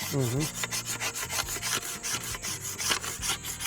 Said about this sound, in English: I'll go in there with this paint scraper.